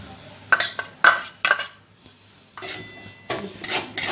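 Chopped onions being stirred in melted butter in a pan, with a utensil scraping and clinking against the metal in several sharp strokes and then a softer stretch of stirring, close and moderately loud.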